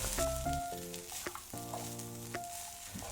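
Soaked flattened rice fries and sizzles in a pan while it is gently stirred, with a steady hiss, intermittent scraping taps and tonal hum layered in the background.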